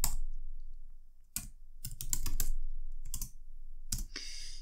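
Rapid bursts of typing on a computer keyboard while writing CSS code, close and crisp clicking in several short runs separated by brief pauses.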